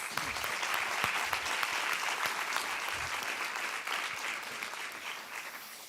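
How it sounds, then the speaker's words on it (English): A conference audience at the launch of the Nordic Nutrition Recommendations 2023 gives a speaker a round of applause: thick, steady clapping that gradually fades over about six seconds, with no voices. "Let's give him another round of applause."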